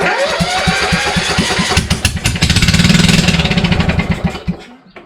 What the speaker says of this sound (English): So why it started for that little bit, and now it won't start again?